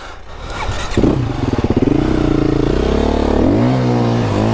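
Close up, a KTM 350 dirt bike engine runs in snow, chugging at low revs, then climbing into a sustained rising whine with brief throttle dips.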